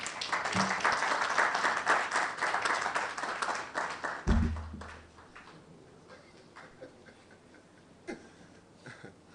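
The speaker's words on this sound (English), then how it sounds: "Another round of applause, ladies and gentlemen." At the launch event of Ghana's National Science and Maths Quiz 2022, a hall audience claps warmly for a few seconds before the applause dies away; a dull thump follows, then a few scattered claps and quiet room noise.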